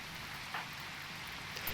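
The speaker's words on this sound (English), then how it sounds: "It's raining, so the rain should put it out." Steady rain falls in the video game RimWorld, a continuous even hiss of drops with no speech over it.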